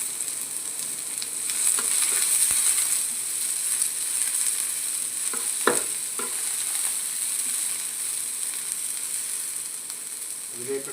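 Curry leaves hiss and crackle in hot oil in a Kerala-style pan, a steady, loud, close sizzle that runs throughout with a few small clicks and pops.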